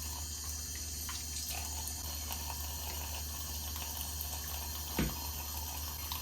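Tap water runs steadily into a sink while makeup brushes are washed with makeup shampoo or Castile soap, a continuous close hiss and splash with a brief louder splash near the end.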